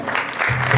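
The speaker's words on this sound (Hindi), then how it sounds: "एक बार मेरे राम जी के लिए बड़े ताली हो जाए" A crowd at a Ram devotional gathering claps in a short, dense burst, and a low steady tone rises beneath the clapping near the end.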